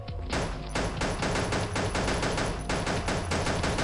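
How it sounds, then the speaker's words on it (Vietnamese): Rapid automatic gunfire from the video game Pixel Gun rattles on without pause, loud and dense, with repeated sharp shots blurring into a continuous burst and no voices over it. "Ui, bắn súng khỏe thế nhở."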